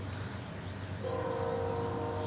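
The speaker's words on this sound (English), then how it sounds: "Can you hear the train whistle?" A freight train on a Norfolk Southern line sounds its whistle partway through, a steady sustained horn tone from a distance that rises out of a broad background rumble and holds to the end.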